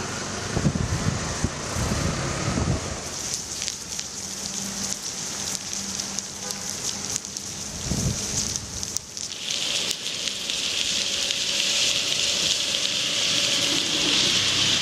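Steady rain falling outdoors in Chennai, with a constant broad hiss of drops on surfaces, close and fairly loud, and no talking.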